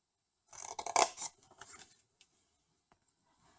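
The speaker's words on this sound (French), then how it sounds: "couper déjà ici jusqu'à la première rainure" Scissors cutting paper up to a score line in a craft project, heard as close, quick snipping and rasping for about a second and a half, then a few faint isolated clicks.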